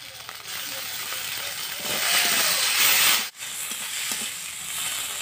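Masala for a prawn and spiny gourd stuffing sautés in a pan, giving a dense steady hiss that swells briefly in the middle, drops out for a moment, then carries on, close up with no voices.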